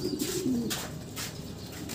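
A racing pigeon named Super White, an off-color champion, coos in soft low murmuring phrases close by, with a faint chirp and some rustling in the background.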